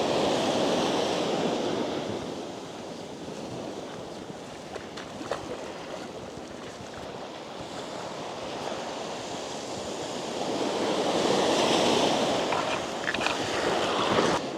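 Sea waves washing up at Little Fistral Beach in Cornwall, a steady surf roar that swells louder at the start and end, with wind buffeting the microphone.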